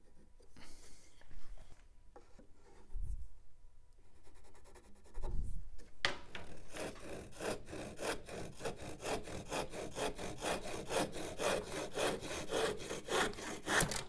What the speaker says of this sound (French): Coupez les deux morceaux à la bonne mesure avec votre scie à dos